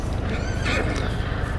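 A horse named Charlie or Tornado gives a brief whinny over a dense, noisy background, with faint hoof clip-clop mixed in and no clear talking.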